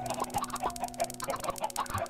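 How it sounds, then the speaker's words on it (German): Chickens clucking in the video game Minecraft, short repeated clucks recurring in an uneven rhythm over a steady background tone, moderately loud with no talk. "Vier Hühner sind geflohen."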